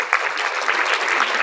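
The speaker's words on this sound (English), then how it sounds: "Give you also a round of applause" A keynote audience at a research forum gives a round of applause, brief, steady, fairly loud, dense clapping with no voices over it.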